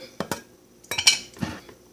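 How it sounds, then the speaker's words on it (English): A metal lid pulled off a cooking pot in a kitchen, giving a few sharp clinks and clatters spread over two seconds, close and fairly loud with no talking. "Pull out the lid if I can."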